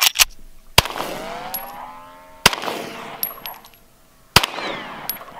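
Three loud 9mm shots are fired at a kettlebell, evenly spaced a couple of seconds apart, each a sharp crack followed by a long metallic ringing from the struck iron.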